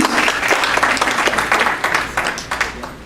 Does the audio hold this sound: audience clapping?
yes